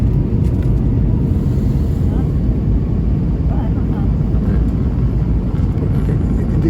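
An airplane landing, with a dense, loud low roar of engine and rushing air filling the cabin steadily from start to finish.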